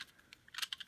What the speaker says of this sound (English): another thing I wanted to point out was the sound that the buttons make